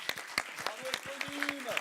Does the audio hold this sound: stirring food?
no